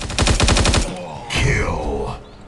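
Rapid automatic gunfire from a Guns of Boom match, a tight burst of about eight shots close and loud, followed by a swelling whoosh or announcer-style effect.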